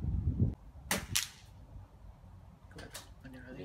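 A few sharp shots ring out at an outdoor target shooting club on a windy day, each a brief crack with a short tail, while people talk quietly nearby.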